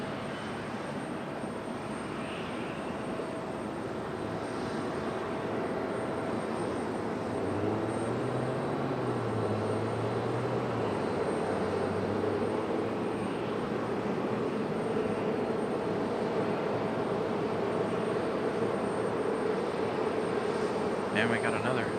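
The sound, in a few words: ATR turboprop airplane landing at Raleigh Durham airport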